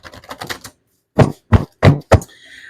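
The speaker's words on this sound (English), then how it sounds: "So let me shuffle the cards here." A deck of tarot cards is handled during a reading: four crisp, clacking bursts in quick succession, close and fairly loud, follow a softer run of rustling, with a brief faint tail at the end.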